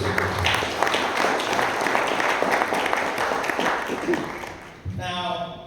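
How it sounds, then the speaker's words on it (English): Audience at a business and investment event between India and Africa gives a round of applause, a dense, fairly loud clapping that holds steady for several seconds, then thins out near the end. "Can I have another round of applause?"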